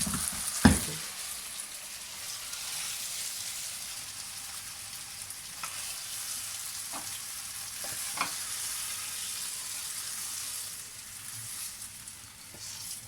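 Chicken fries in oil over a high flame in a pan, giving off a continuous soft, even sizzle. A few sharp clicks and knocks from utensils break through the sizzle.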